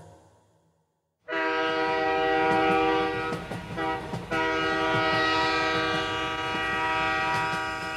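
A train drawing into a station as a story sound effect, opening with a long loud steady horn blast after a brief quiet start, over the rumble of rolling carriages, with the horn dipping briefly midway and then sounding on.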